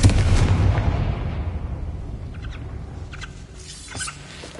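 Confringo fire spell cast in Hogwarts Legacy, a sharp burst followed by a rumbling blast that decays over a few seconds, with faint chirps and game effects trailing after.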